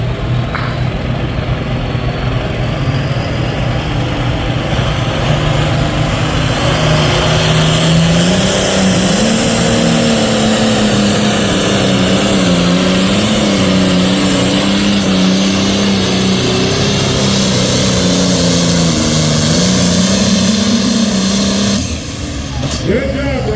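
A pro stock pulling tractor on the Bacon Burner at a 9K/10K class pull in Drayton, 2024, roars loud and close with a sustained, wavering engine drone, while an announcer talks over it.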